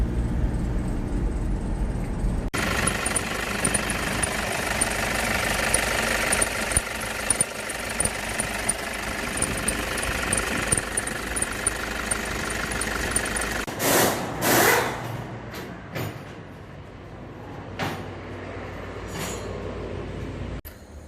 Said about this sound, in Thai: โอเคครับผมขออนุญาตขับรถก่อนนะครับ